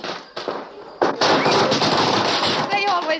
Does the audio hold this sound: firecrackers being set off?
yes